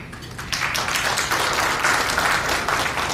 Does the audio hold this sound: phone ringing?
no